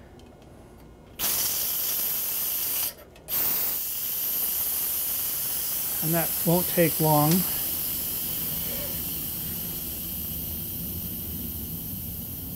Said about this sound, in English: I'm going to quick release the steam by turning the pressure release valve from sealing to venting.